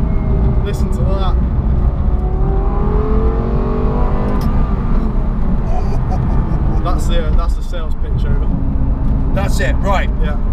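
A Lexus LFA's V10 accelerating flat out from inside the cabin, with a loud, continuous engine roar climbing through the gears in rising sweeps and voices talking over it.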